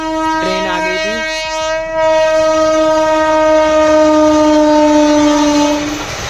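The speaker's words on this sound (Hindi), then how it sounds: "अब ये ट्रेन चली जाएगी तो फिर हमारा फाटक खुल जाएगा" At a closed railway level crossing in a village, a passing train blasts a loud, sustained horn for several seconds over the rumbling clatter of the rail cars.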